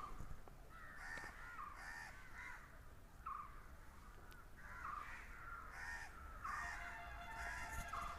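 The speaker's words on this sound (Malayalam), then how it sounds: "ജസ്റ്റ് ഇവിടെയൊക്കെ നല്ല കാക്കയൊക്കെ അലക്കുന്ന സൗണ്ടുകളുണ്ട്" Crows caw repeatedly in the background outdoors, with harsh calls overlapping in irregular bursts. The sound is captured through the microphone of a budget Mi Bass Beast earphone.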